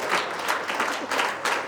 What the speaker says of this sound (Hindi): तालियां बजती रहें, अभी तो कलाकार बहुत हैं।